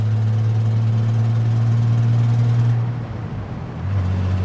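A 1993 Ford F150 with a five-speed manual holds a steady, loud engine drone while cruising in fourth, then the pitch drops and wavers briefly near the end before settling into a lower hum.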